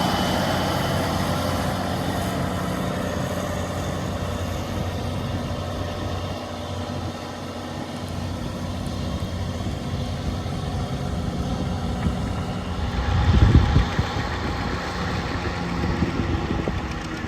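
A 10X 890 Copycat tractor, an 890-horsepower machine, plowing out in a field, its heavy engine drone steady and continuous at mid distance, with a brief louder surge of rumble near the end.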